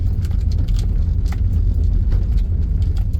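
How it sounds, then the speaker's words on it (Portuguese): Toyota Corolla rolling over a rough cobblestone street, heard from inside the cabin as a loud, continuous low rumble with rapid jittery knocks and rattles from the uneven paving, no talking. "agora eu estou andando nessa rua de calçamento"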